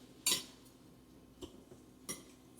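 Utensils clink against a bowl while BBQ coleslaw is mixed, giving three sparse metallic clicks over a quiet background.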